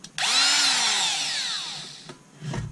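Small handheld power tool cutting into a 5-litre metal beer keg, a loud close whining buzz with sweeping pitch that runs for about two seconds, then a brief pause and a short low clatter at the end.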